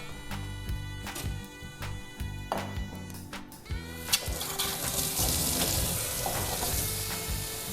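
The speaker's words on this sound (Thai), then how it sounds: "ขออนุญาตล้างเขียง" Running tap water splashes steadily over kitchen clatter, with a brief knock partway through as a cutting board is rinsed under the stream.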